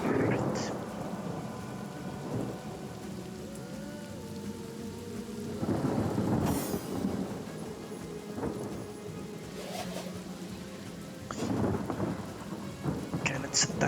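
A rain spell cast in the video game Divinity Original Sin brings a steady hiss of falling rain with repeated thunder rumbles and cracks, swelling loud at intervals.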